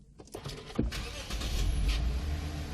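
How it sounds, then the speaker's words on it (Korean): A Lexus IS250 sedan is started: a few faint clicks, then a brief starter crank that catches and settles into a steady, close engine idle. "제가 시동을 한번 걸어보도록 하겠습니다."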